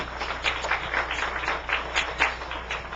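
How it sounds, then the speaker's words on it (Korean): A church congregation claps for the choir, a steady even patter of many hands, fairly soft and continuous over three seconds. "박수 한번."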